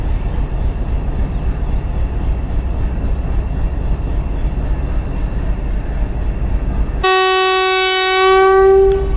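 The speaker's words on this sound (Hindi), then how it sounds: "फर्स्ट डिपार्चर विसल सुन लिया आपने" A train whistle sounds at a railway junction station as a departure signal, a strong tonal blast cutting in late over steady rumbling background noise, loud and close, alone without talk.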